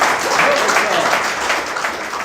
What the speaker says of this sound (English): a really big round of applause for storytelling